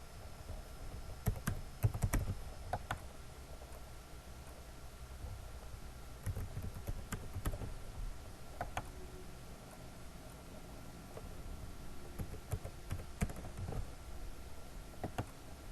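Rapid clicking of keys on a computer keyboard, typing in quick irregular bursts with short pauses, close and fairly quiet over a faint background hiss, no voices.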